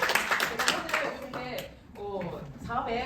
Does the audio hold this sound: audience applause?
yes